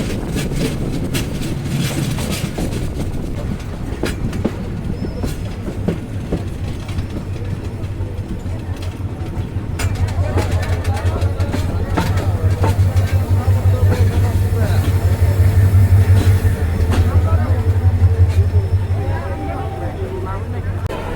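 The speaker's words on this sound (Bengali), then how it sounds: "মিনিট বিলম্বে ট্রেন প্রবেশ করছে বলে বোঝা যাচ্ছে" A train rolls into a station with a steady low engine rumble and rail noise that swells midway and then eases, under nearby voices talking.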